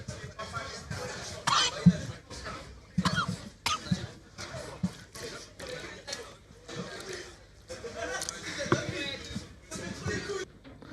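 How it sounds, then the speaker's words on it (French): Someone coughs repeatedly in short, sharp bursts scattered among lively indoor chatter and occasional laughter, the coughs fairly close and loud against a busy background of voices. "On entend juste le bruit de quelqu'un qui tousse"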